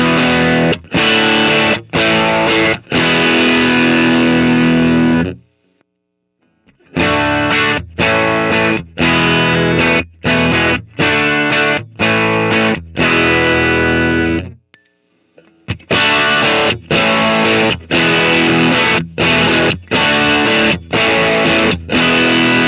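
Electric guitar played through a KMA Machines Minos germanium fuzz pedal, loud, clear, saturated chords struck in rhythmic bursts, broken by two short silent pauses, with no talking.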